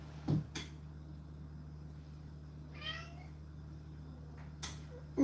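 A cat meows a single time at close range in a quiet room, a short wavering cry set against a faint low hum, with a few soft knocks and clicks before and after.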